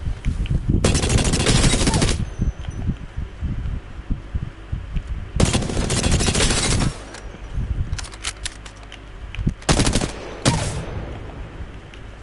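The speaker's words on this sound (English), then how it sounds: "Which is a Prowler SMG with full auto." Prowler SMG from Apex Legends firing on full auto, three long loud sustained bursts of rapid gunfire separated by quieter game background, the last burst split into two shorter volleys.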